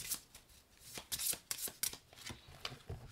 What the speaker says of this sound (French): on va aller chercher ces cartes et on va aller les mélanger